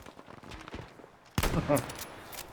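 Gunfire in the Battlefield 5 video game crackles as distant shots followed by a sudden loud burst of rapid fire, with faint game ambience throughout.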